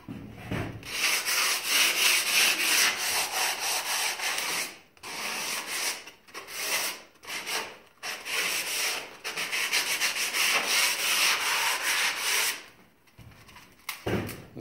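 A homemade foam-backed hand sander rubs sandpaper over wood in steady, close, raspy back-and-forth strokes, broken by a few short pauses, with no talking.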